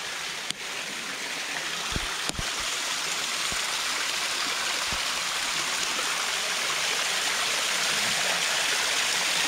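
A stream in the Thanh Long stream area of Núi Cấm mountain rushes steadily, a close, continuous broadband wash with a few faint clicks near the start and no speech.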